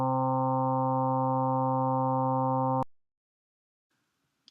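Steady electronic FM synthesis tone, a C3 carrier modulated to resonate around C5, holding loud and unchanging for nearly three seconds before cutting off abruptly into silence with only faint stray noise afterward.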